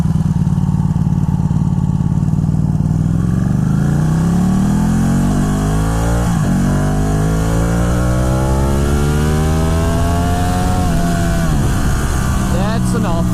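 A 2012 Ducati Panigale 1199 motorcycle engine revs up loud and close, its pitch climbing steadily through several gear-like steps before easing off near the end, with a rider's voice faintly underneath.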